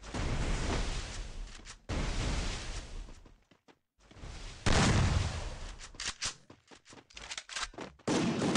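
Dense bursts of rapid video game gunfire, including an M10 weapon, and booming blasts fill the clip, with a brief silent gap, then scattered sharp shots and more heavy firing.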